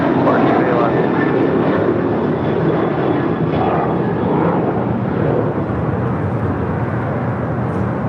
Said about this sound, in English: Eva Air Flight 5 departing to Taipei